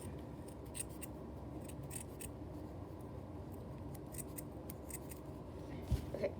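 Scissors snipping material for a no-sew withered Bonnie plush, a steady low rustling cut with faint scattered snips and a sharper clack near the end.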